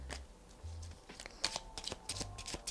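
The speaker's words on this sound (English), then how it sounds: "So let's shuffle." An oracle deck of cards is shuffled by hand, quiet close-up riffling and sliding with a few sharp flicks, no talk.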